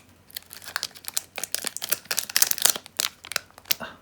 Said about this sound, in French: Donc, on va ouvrir le deuxième booster.